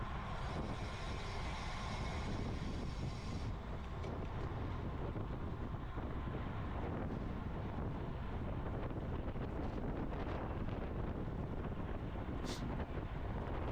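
Steady wind noise rushes across the microphone at a women's cycling road race, a constant low broadband roar filling the whole stretch with no clear voices.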